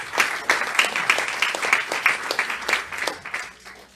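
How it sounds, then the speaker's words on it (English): Applause from the audience at a talk-show panel event on EU plastic recycling, a brief burst of distinct claps from a modest crowd that tapers off over a few seconds. "Let's give it a round of applause."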